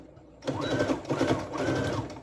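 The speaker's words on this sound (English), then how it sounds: "and then you sew" A sewing machine stitches a man's fitted shirt, running in two steady bursts with a short pause between them, close and fairly loud, with no talking.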